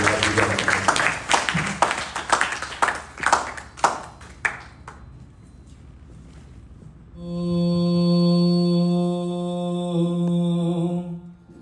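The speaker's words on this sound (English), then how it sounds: "Can we have a round of applause for our guests?" An audience applauds guests at a youth yajna gathering, the clapping thinning into a few scattered claps and fading, then a sustained ringing tone, likely a bell or conch-like resonance, holds steadily to the end.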